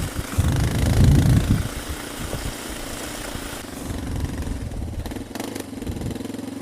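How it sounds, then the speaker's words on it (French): A Yamaha Raptor 250 ATV engine runs cold just after starting in winter, rising briefly to a louder rev, then holding a steady, moderate idle throughout. "Là, je vais pas trop vite parce que le moteur est froid,"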